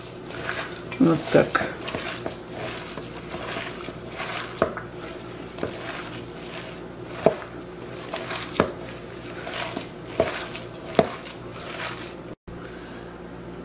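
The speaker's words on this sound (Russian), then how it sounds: "Теперь все тщательно перемешаем, вымесим хорошо." Minced meat being kneaded by hand for Afghan kofta meatballs, with soft squishing and slapping sounds repeating irregularly over a low steady background, a brief spoken word near the end.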